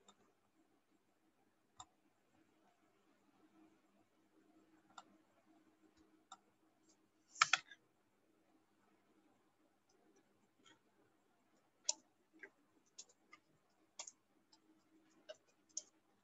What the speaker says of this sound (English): I'm typing in the chat box